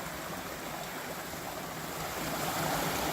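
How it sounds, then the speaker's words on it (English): Pine Creek, a small brushy stream in Nevada's Rainbow Mountain Wilderness, flows with a steady soft rushing wash that swells slightly toward the end, no voices. "Beautiful little creek"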